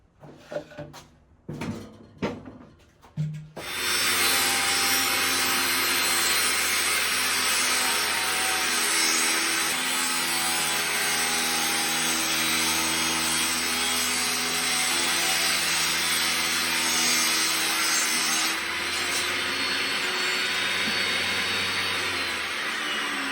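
A saw trims the edges of plywood for a custom box, sounding first as a few sharp knocks, then as a loud continuous rasping cut that runs close and steady for nearly twenty seconds, with no voices.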